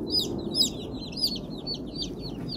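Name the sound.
baby chicks peeping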